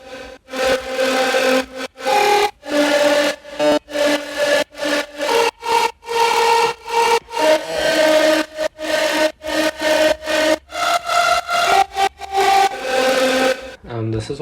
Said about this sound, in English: Next up we have the screech lead.